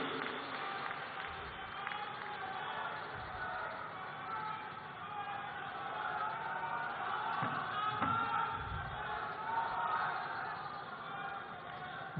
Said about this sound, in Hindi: तालियां एक बार पूरी ऊर्जा के साथ आप सबकी तरफ से बजनी